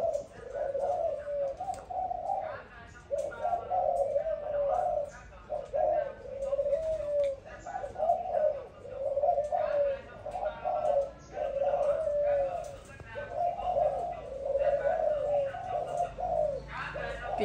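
A Malaysian spotted dove coos over and over in a steady rhythm of deep, rolling calls, loud and close, with faint chirps and someone talking now and then in the background.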